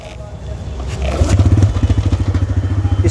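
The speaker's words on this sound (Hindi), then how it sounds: "स्टार्ट हो गई है बाइक" TVS Raider 125 motorcycle engine starting up and settling into a close, loud, evenly pulsing idle, a rhythmic throb that continues steadily after a brief crank.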